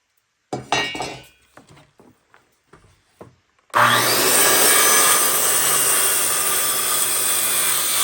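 A Collins handsaw cuts through old wood while a fireplace is being made. A few scattered knocks and clinks come first, then loud, close, continuous sawing strokes run to the end.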